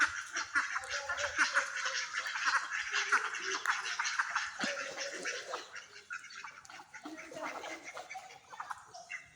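Domestic ducks quack in a loose chorus close by while a person repeatedly calls to them with a voice imitating their quacks, calls and bird sounds overlapping throughout.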